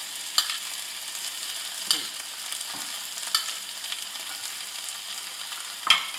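Fried pork chops go back into a pan of onion sauce, a steady soft sizzle underneath with a few sharp clinks and scrapes of the utensil against the pan, close by and with no one talking.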